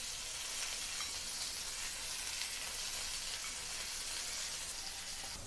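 Bombay duck fish shallow-frying in oil in a pan over a medium flame gives a steady, even sizzle that hisses continuously throughout, close and moderately loud, with no talking.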